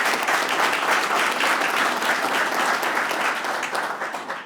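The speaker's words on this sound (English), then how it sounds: "I'd like to give them a round of applause." Steady, dense clapping from a large audience at a downtown press conference, loud and sustained throughout, tapering slightly at the very end.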